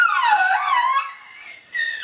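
A man imitates a dog with his voice, giving a close, loud falsetto howl that bends down and back up, then a brief whining yip after a short pause.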